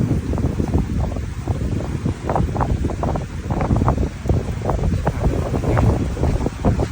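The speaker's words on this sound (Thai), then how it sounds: "ลมลมดีและลมแรงนะ" Strong, gusty wind batters the microphone at Yinyom Beach in Pattaya. It buffets in continuous rough bursts, with a faint surf-like wash underneath.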